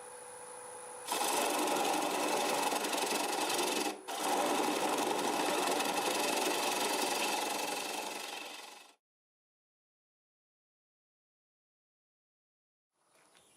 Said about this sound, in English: I'll start out with a 1/2-inch bowl gouge, and we're doing about 600 RPM.